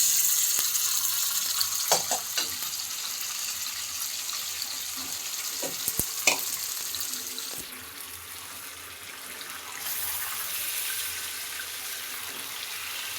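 Pieces of goat meat go into a hot pan and sizzle in a loud, hissing wash with several sharp clatters early on. The sizzle then drops and settles into a steadier, quieter fry. No one speaks.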